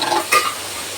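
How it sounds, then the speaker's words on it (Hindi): A spoon stirs carrot halwa frying in desi ghee with dry fruit and homemade khoya in a pan, giving a soft scrape and a quick burst of sizzle over faint background frying. "मिक्स कर दिया गया है देसी घी के साथ गाजर के हलवे को।"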